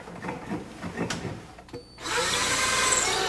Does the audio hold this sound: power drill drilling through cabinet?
yes